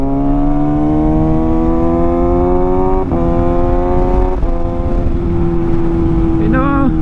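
A motorcycle engine with a quickshifter revs up repeatedly, with quick dips in pitch at each gear shift, loud and close throughout, after an Amsoil oil change.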